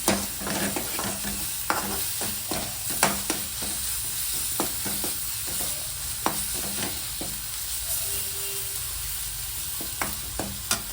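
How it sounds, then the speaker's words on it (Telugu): Ginger garlic paste frying in a pan for a brinjal masala curry, a steady close sizzle broken by repeated scraping clicks of a spoon stirring, with no voices. "కొంచెం అల్లం వెల్లుల్లి పేస్ట్ వేగుతుంది."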